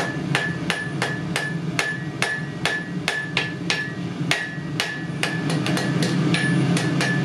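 Hammer striking hot steel on an anvil while a knife blade is forged, a fast run of sharp, ringing metallic blows at an uneven rhythm, loud and close with no talk.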